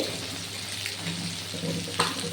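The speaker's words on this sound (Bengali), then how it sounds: "জল দিয়ে মাছটাকে একটু ঢাকা দিয়ে সেদ্ধ হতে দেবো" Water is poured into a pan of hilsa fish with spices, making a steady close splashing and hissing rush, with a brief clink near the end.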